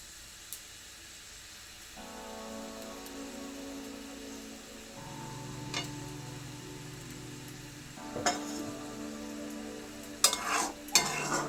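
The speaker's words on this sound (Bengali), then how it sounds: "এবার আমি এর মধ্যে মাছগুলো ছেড়ে দেবো।" Katla fish pieces dropped into hot oil for a Bengali curry, the sizzle jumping louder as they go in and then frying steadily, with a few sharp clatters near the end.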